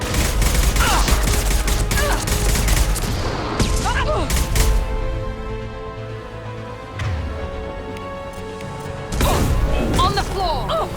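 Shots from Mass Effect 2 combat rattle in close, loud bursts with crashes and thuds, go quiet in the middle, then come back hard at the end, with game voices calling out between them.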